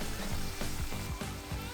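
Koeksisters, braided South African dough treats, fry in hot oil with a steady, close bubbling sizzle, punctuated by rhythmic low pulses throughout the short stretch.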